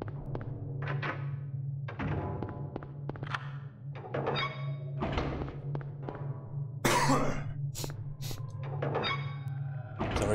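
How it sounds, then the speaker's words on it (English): A few sharp coughs from a person break over a steady low game-soundtrack drone during a Silent Hill speedrun, the loudest burst coming late in the stretch. "I needed to cough."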